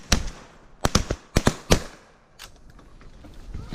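Several loud, sharp shotgun blasts during a waterfowl hunt, four close shots in quick succession near the start, then quieter outdoor rustle with faint distant sounds.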